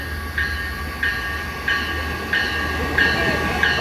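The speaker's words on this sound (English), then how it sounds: "Here comes a train." A Long Island Rail Road train rolls steadily past a crossing, loud and close, with a regular clack of wheels over rail joints about every two-thirds of a second and a low rumble beneath.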